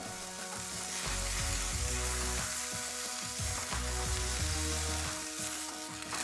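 Burger patties sizzle in a frying pan with a steady, close, crackling hiss that stays loud throughout, broken only by soft clinks and scrapes of a utensil, with no voices.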